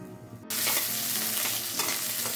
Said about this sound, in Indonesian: kita tumis cabai merah besarnya